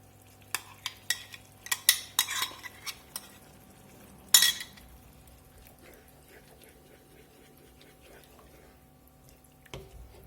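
A utensil stirs chicken in a creamy brown mushroom sauce in a pan, with a cluster of sharp clinks and scrapes, one louder knock, then a quiet simmer.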